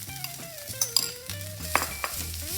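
Coconut chutney ingredients being stirred in a hot pan with the stove off, tamarind already in: light scraping and clinks of a utensil against the pan, a few sharper metallic taps, faint sizzle underneath.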